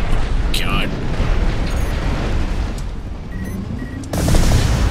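Missiles burst in rapid, dense succession during Armored Core VI mech combat, a continuous rumbling barrage with a louder blast near the end, while a voice shouts over the chaos.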